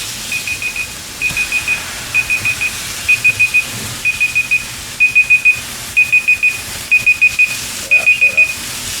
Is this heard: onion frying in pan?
no